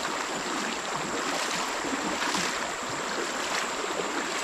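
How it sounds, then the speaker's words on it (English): Shallow, fast-moving stream water over sharp rocks in the woods, a constant close rushing and hissing wash with no talk over it. "The water for here is fairly shallow, but it's moving pretty fast."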